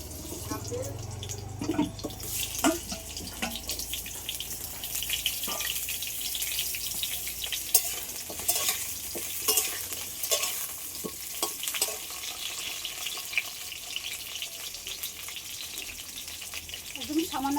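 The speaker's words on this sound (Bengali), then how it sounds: "কড়াইতে সর্ষের তেল দিয়ে দেবো এবার আলুগুলো ভেজে নেব" Potatoes fry in mustard oil in a wok (kadai), giving a dense, close sizzle with frequent clattering scrapes and taps of stirring throughout.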